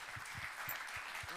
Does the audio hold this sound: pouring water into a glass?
no